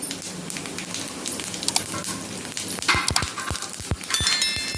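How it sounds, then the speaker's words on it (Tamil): Mustard-type seeds, chana dal, cumin and fenugreek crackle and spit in hot oil while tempering for an okra pachadi, a dense close sizzle with a run of sharp pops growing louder toward the end. "எல்லாம் நல்லா பொரிஞ்சு வரணும்"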